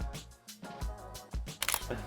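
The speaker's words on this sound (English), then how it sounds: "that shutter sound is unique. It's a little bit more mechanical sound." A Fujifilm camera shutter fires with a crisp, mechanical-sounding click, close to the microphone, with a brief sharper burst near the end over a busy, toned background.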